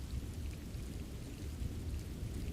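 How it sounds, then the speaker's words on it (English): A rain storm with thunder fills the scene with steady, dense rainfall and a low continuous rumble underneath, with a brief sharper burst at the very end, and no voices. "The rain is merely the sound of the world being washed clean"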